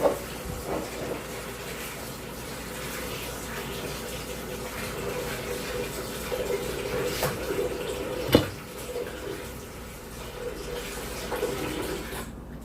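Water running steadily from a kitchen tap while raw chicken is rinsed, a continuous soft splashing hiss with a few brief clunks and a sharper knock partway through, fairly quiet and close.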